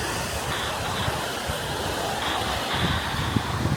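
Ocean surf at Venice Beach makes a steady, full rushing wash of breaking waves, close and continuous, with some wind buffeting the microphone.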